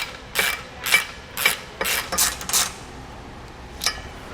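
Bolts on a trailer jack coupler are tightened with a ratchet: several short bursts of clicking, each lasting a fraction of a second, close and fairly quiet, with pauses in between.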